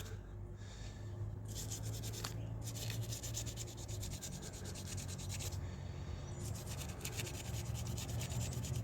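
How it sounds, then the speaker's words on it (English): A brush scrubs the inside of a can in steady, close rasping strokes, with brief pauses between bursts of scrubbing. "there is some scrubbing required"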